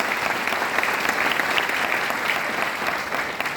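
A short, steady burst of audience applause at a career seminar, dense clapping holding at an even level throughout with no voices over it.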